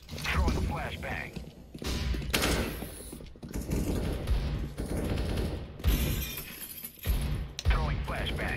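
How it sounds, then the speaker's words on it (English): A flashbang grenade thrown in CS:GO gives a sharp shattering burst amid dense game effects and gunfire-like bangs, with a game voice calling out over the action. "Throwing flashbang."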